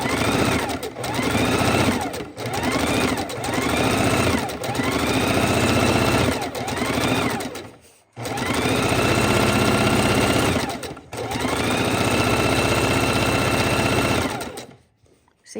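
A sewing machine stitches raw edge appliqué fabric in long, loud, close bursts of rapid whirring, pausing briefly between runs and falling silent at the end.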